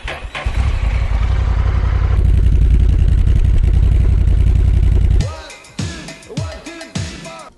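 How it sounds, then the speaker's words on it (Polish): A Honda NT 1100 DCT motorcycle engine runs with a loud, steady exhaust rumble for several seconds, then cuts off, leaving a few short ticks and clatters. "świetnie brzmiący układ wydechowy"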